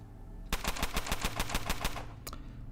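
Gunfire in the Underrail video game: a fast burst of about ten evenly spaced sharp shots over roughly a second and a half, then one more isolated shot, loud against a low steady hum.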